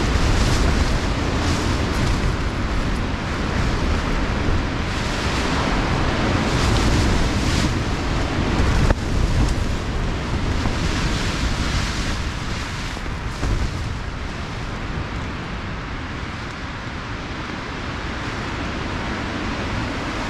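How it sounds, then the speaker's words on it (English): Loud, continuous roaring wind from Storm Aiden buffets a Black Diamond HiLight 2P tent at a wild camp, heavy gusts in a constant dense rush that surges and eases, with no voices. "Some seriously big gusts."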